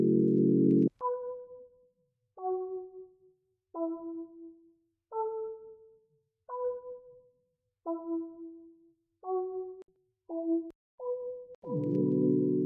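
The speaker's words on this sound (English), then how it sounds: "Right now we're inside Analog Lab looking for a nice little counter melody sound" A synth counter-melody preset from Arturia Analog Lab, made for a hip-hop beat, plays alone as a sequence of about ten short bright tones. The notes come in a spaced, stepping rhythm after an opening low sustained note, clean and moderately quiet.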